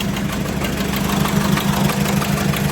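An Ursus C330 tractor engine runs close by with a steady, throbbing, low chugging rumble that holds at an even pace throughout.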